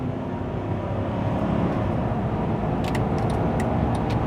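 A Mercedes-Benz GL 420 CDI, a heavy diesel SUV carrying two people, accelerates at full throttle, giving a steady loud low engine and road roar throughout with a few brief clicks near the end.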